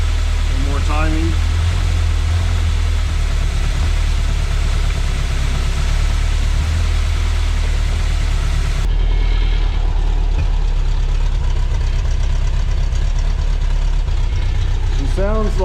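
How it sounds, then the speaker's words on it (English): An abandoned Corvette that sat for over fifteen years idles roughly with a misfire, a loud, uneven engine rumble running throughout, with short chirpy squeaks near the start and end and voices talking faintly over it. "Sounds like there's a misfire"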